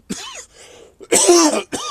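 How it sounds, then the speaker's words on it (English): A few sharp, close coughs come in quick bursts, with a rough throaty sound between them and a short pause in the middle. "Still not over my cough."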